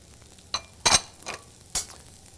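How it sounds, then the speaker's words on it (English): Mushrooms and minced shallot hitting butter in a preheated pan, a few sharp clattering bursts of pan and utensil knocks over a soft low sizzle, close by with no voices. "take a couple tabs of butter, throw it in a preheated pan. We're going to add our mushrooms"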